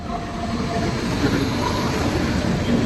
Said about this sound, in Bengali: ঝড়ের গতিতে ডানকুনি জাংশন ক্রস করছে এই ট্রেনটা